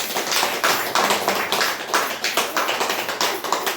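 Audience clapping hands in rhythmic unison at a spiritual gathering, steady fast beats continuing for about four seconds, close and loud, with no talking.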